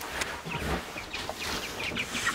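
Chickens in a coop cluck softly in a few short calls over steady rustling farmyard background noise.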